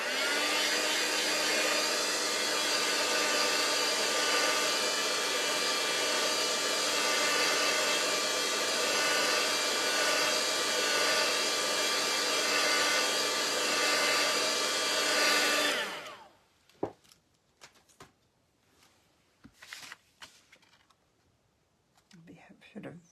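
A hair dryer blows steadily on handmade craft work for about fifteen seconds, a loud continuous whirring hum, then cuts off, leaving faint handling clicks and rustles.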